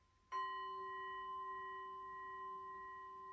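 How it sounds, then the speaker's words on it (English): A small gong or glass bowl struck once, giving a clear, bright ringing tone with steady overtones that lingers and slowly fades over several seconds in a quiet room. "it's wonderful to have a little gong or a glass bowl or something that you like."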